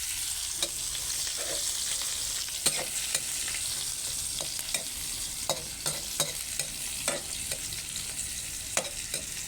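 Onion is sautéed in a pan for sautéed moringa, with a steady hiss of frying and repeated scraping stirs of a utensil against the pan at an irregular pace, without anyone talking.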